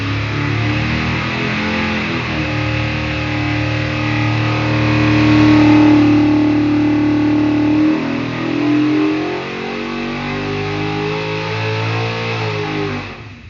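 A 408ci Cleveland V8 on a dyno revs hard from 4,500 up toward 6,700 rpm, a loud sustained roar that swells and climbs in pitch, then eases back to a steady high drone.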